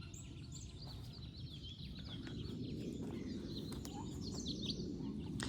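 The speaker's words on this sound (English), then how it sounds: "Listen to all the birds." Birds singing in a permaculture garden, a scattering of faint chirps and tweets over a low, steady background rumble.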